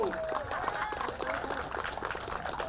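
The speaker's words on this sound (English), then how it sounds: "A big round of applause for all of you." Steady applause from a crowd at a Vietnamese community music and dance show, a dense patter of clapping with cheering voices mixed in, continuous throughout.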